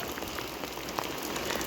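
Steady rain falls outdoors on a festival day, a dense, even hiss with scattered close drops tapping a surface, continuing throughout with no voices.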